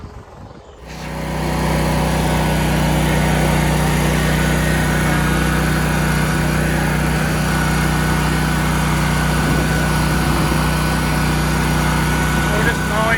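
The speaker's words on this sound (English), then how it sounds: "We're just mowing." A Toro Grandstand stand-on mower cutting grass with a Catchpro catcher fitted. Its engine starts up in the first second, then drones loud, close and steady throughout.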